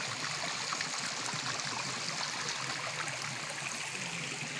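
A natural spring in the Konkan countryside sends water flowing down a channel it has cut, a continuous close rushing and gurgling with no voices.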